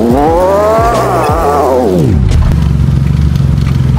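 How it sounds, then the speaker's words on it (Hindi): A new car driving along a badly broken road strewn with rubbish: a loud engine drone sweeps upward and then drops steeply in pitch, giving way to a steady rough rumble with scraping clatter. "आप हर जगह से सुन सकते हो गाड़ी का साउंड,"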